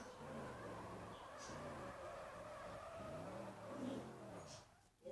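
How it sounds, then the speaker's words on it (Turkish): A race car's engine drones and rises in pitch while its tires squeal in skids, with repeated wavering tones and a louder burst near the end before a short dip. "Bu arada arkadaşlar yarış arabası"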